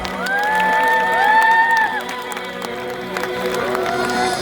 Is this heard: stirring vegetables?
no